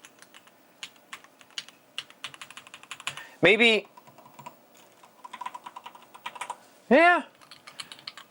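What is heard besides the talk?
typing on a clicky retro mechanical keyboard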